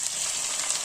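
Tomatoes and green chilies fry in a pan with ginger and garlic, giving a steady, close hiss of sizzling oil with no talking.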